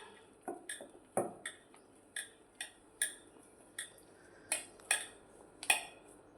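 A spoon clinks and scrapes against a bowl while stirring farali bhajiya batter, about a dozen sharp metallic taps in an uneven rhythm, close and fairly quiet, with no talking.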